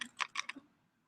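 A short burst of computer keyboard typing, four or five quick clicks close by, then quiet.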